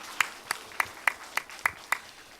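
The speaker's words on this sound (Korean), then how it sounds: "우리 하나님 영광의 박수 올리겠습니다." A church congregation at a Sunday morning service claps in a slow, even rhythm, about eight sharp claps spaced roughly a third of a second apart, moderately loud against a quiet room.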